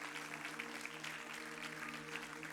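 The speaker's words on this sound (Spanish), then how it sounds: "Dale ese aplauso fuerte al Rey de Reyes y Señor de Señores." Steady, fairly faint applause from a church congregation during a Sunday morning service, continuous overlapping clapping with a low hum beneath it.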